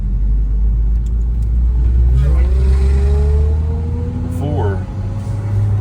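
A 2010 Hyundai Genesis Coupe R-Spec 2.0T fitted with a GReddy-style FV blow-off valve, heard from inside as the engine revs up, then a brief fluttering chatter as the throttle lifts, with a voice speaking briefly.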